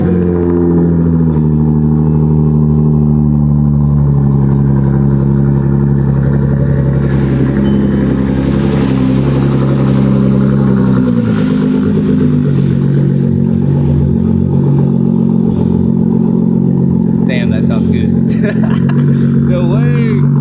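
A sports car's engine runs loud and close with a steady, deep, throbbing idle that drops in pitch partway through, then rises again as it moves off, with voices talking over it near the end.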